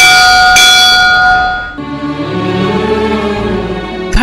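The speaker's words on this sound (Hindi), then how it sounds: "जैन मंदिरों के मुख्य द्वार पर एक विशाल घंटा लगा होता है।" A large bell at the entrance of a Jain temple is struck once, giving a loud ringing clang with rich overtones that sustains for over a second, then gives way to a lower room rumble and a faint second touch at the end.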